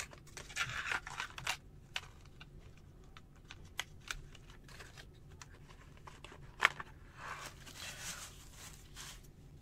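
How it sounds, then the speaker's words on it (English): An X-Acto knife slicing through a cardboard box, close and fairly quiet, with scratchy tearing strokes and small sharp clicks over a steady low room hum. "We're going to cut the box back."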